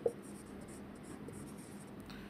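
Writing during an English grammar lesson: quiet, continuous scratching and scraping of writing strokes, faint and close, with a brief knock at the start.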